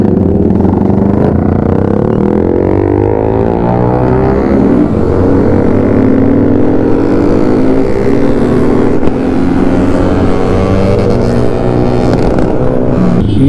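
Several Yamaha R15 motorcycles, including a V2, idle and rev loudly together as a morning group ride sets off, engines droning steadily and close by with rising throttle blips.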